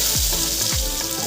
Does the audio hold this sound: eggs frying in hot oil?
yes